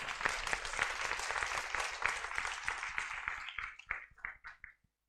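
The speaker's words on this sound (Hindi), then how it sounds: "ताली तो बजा दो।" An audience at a spiritual discourse breaks into dense applause that holds steady, then thins into a few scattered claps and fades out.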